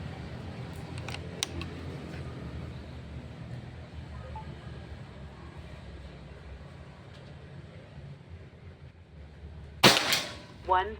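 One sharp, loud shot from a Pajero Gen 6 air rifle during an accuracy test cracks near the end, followed by a short rattling echo, after a long stretch of quiet background hum.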